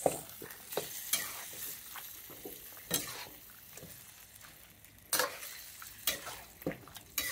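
Ham hock adobo with oyster sauce being stirred in a pan: a soft sizzle and frying underneath, with intermittent scrapes and knocks of the spoon against the pan, close and fairly quiet.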